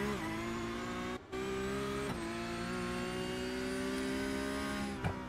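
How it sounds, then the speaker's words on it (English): A Porsche race car engine working hard on track, a sustained droning roar with steady harmonic pitch, two brief dips like gear changes, heard alone at a moderate distance. "Listen to the sound of the Porsche hard at work."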